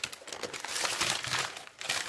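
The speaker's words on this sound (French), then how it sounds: "Il y a une première couche de papier et encore une deuxième dans l'autre sens." Layers of packing paper are crinkled and peeled back while a parcel of beauty and cosmetic products is unwrapped, a steady close rustling and crumpling that lasts throughout with no talking.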